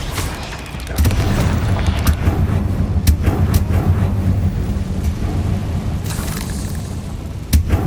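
A Confringo fire spell bursts in Hogwarts Legacy on PS5, a deep booming blast that rumbles on, with further sharp impacts landing amid dense, continuous combat noise.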